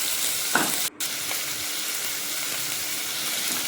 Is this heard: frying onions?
yes